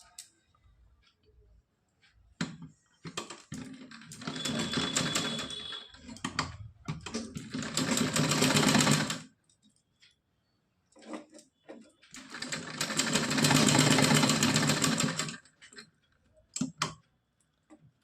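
Sewing machine stitching a half-inch seam on a small cotton dress, running in several sustained bursts of rapid ticking and whirring, separated by pauses with clicks and handling noises.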